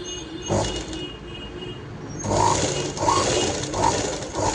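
A sewing machine stitches a blouse neckline in short bursts of rapid mechanical whirring and clatter, close and fairly loud, with a pause between runs.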